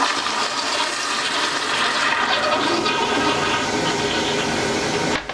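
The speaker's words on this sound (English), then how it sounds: "Now for your toilet vents, we're going to flush the commode." A toilet flushing in a hotel bathroom at the Penn Stater Hotel, State College, PA: one loud, steady rushing whoosh of water lasting about five seconds, close by, cutting off abruptly at the end.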